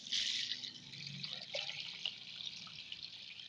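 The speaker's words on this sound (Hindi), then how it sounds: "अब इसमें हमने जो पानी डालना है वो गर्म" Hot water poured into a pot of cooking sarson ka saag, a steady close splashing pour with dripping and trickling, no voices.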